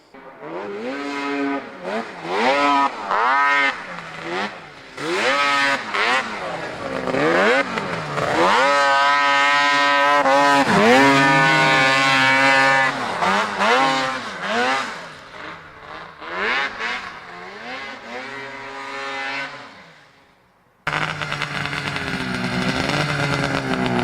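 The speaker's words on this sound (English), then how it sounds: "He's gonna make a run on the 780." Vintage mod dirt-track race car with a 780 engine makes a run, loud and close, revving up and down in repeated rising and falling surges, then a brief drop before the roar resumes.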